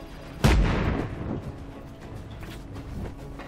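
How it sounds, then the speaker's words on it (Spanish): A grenade goes off in the Just Cause 3 video game, one loud booming blast that rolls off into a long rumbling decay, followed by scattered faint gunfire. "cúbrenos, Rico. ¡Granada!"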